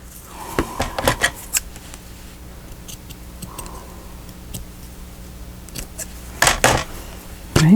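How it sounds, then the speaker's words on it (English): Scissors snip through a paper tab on a small no-sew journal made from 12x12 paper, giving a few close, quick crisp cuts around the one-second mark and again near the end, over a quiet room. "if I were to cut this tat off right here"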